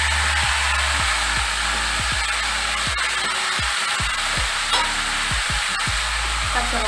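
Potatoes and prawns fry in a pan for a Bengali banana-flower (mocha) and prawn dish, a loud steady sizzle broken by regular scraping stirs.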